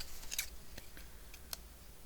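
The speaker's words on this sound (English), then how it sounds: "I'm going to fussy cut this out just a little bit." Quiet, close snips of scissors fussy cutting paper, a handful of short crisp cuts spaced irregularly over a soft background hiss.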